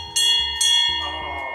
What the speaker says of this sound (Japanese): あ、結構鳴るね。 そうそう、チャイム。